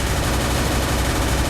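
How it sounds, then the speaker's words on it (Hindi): Gunfire in the mobile battle game Free Fire, a dense, continuous burst of shots with a steady loud roar and no clear gaps between rounds. "पीछे से कोई गोली चलाया है"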